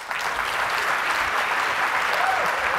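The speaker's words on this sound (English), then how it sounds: "a round of applause for Federico Faggin" Audience applause welcoming a speaker at a talk, a sustained wash of many hands clapping at an even level throughout.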